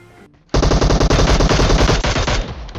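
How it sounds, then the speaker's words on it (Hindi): Rapid automatic gunfire in PUBG Mobile bursts loudly after a brief quiet moment, continuing steadily for a couple of seconds with game-like punch. "लेकिन इतने में जो फायर की आवाज़ आती है"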